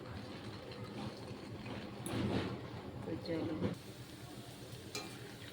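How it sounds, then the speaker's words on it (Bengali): Bread-based gulab jamun balls frying in hot oil, a steady close sizzle with louder bubbling bursts in the middle, under a person speaking. "কি সুন্দর ভাজা হচ্ছে দেখো বন্ধুরা"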